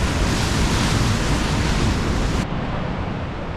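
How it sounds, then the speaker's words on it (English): Roar of water crashing at the base of Nevada Fall in Yosemite in winter, a loud, steady broadband rush close by that drops slightly in level near the end. "Bottom of Nevada Fall here."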